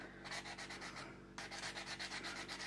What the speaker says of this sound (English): For some reason I'm sanding like that.